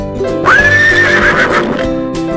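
A horse gives a single loud, drawn-out whinny that rises and then trails off, with a steady tonal background underneath.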